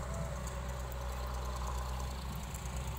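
Tractor engines idle at a steady low rumble while a dumper is loaded with soil, a faint and continuous diesel throb with no voices.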